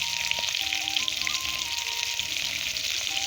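Chili, garlic and onion frying in a pan for a home-style Assamese dish, giving a steady, close, dense sizzle with faint stirring clinks, no voices.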